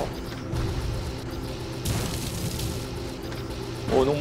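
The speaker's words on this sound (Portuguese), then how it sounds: "Soltou tiro espacial." Space weapon shot in the mech combat game War Robots, booming mechanical blasts among steady machine rumble, with a sharp burst around the middle and another rising impact at the end.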